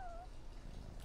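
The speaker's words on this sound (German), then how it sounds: "Ein Kätzchen." A kitten in the video game Yonder: The Cloud Catcher Chronicles gives one short, high meow at the start, followed by quiet game ambience.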